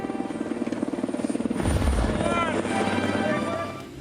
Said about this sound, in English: It was a great feeling to see that helicopter come in.